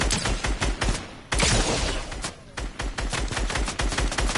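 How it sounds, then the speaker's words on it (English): A video game firefight crackles with rapid bursts of gunfire and a heavy blast in the middle, sharp close shots repeating in clusters with no talking. "What was that explosion?"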